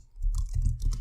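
Quick, close clatter of keys on a computer keyboard while entering a command, a short run of soft overlapping clicks with no speech.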